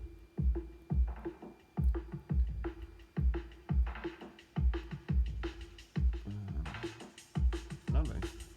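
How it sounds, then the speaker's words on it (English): A filtered electronic drum track builds toward a drop, with punchy kicks landing in a steady, evenly spaced beat and muffled percussion between hits, loud and upfront with no voice. "So drums sound like this."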